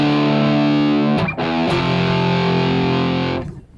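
Distorted electric guitar through a Line 6 Pod Go Plexi Jump amp model, loud sustained chords with a brief break and restrike partway, ringing out alone before fading at the end.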